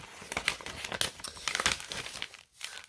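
A paper envelope is opened by hand, giving a run of close crinkling and rustling with a few sharper tearing rips, loud and alone with no talk.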